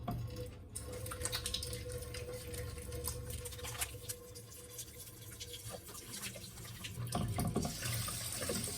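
Tap water runs steadily into a sink while hands are washed before cooking in a home kitchen in Germany, a continuous close splashing stream with no talking.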